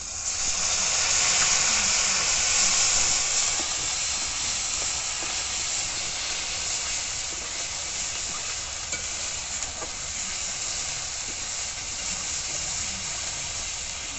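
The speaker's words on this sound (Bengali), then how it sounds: "মশলা ভাজা হচ্ছে" Ground spice paste fries in a pan for a Bengali rui fish curry, with a loud, continuous close sizzle and faint stirring throughout and no voices.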